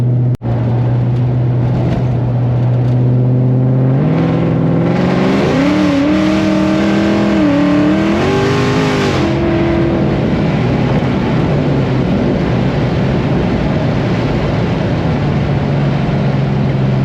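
A boosted performance car engine idles with a deep rumble, then revs hard and climbs in pitch through a loud acceleration pull before easing back to a steady idle; close and powerful, with no talk.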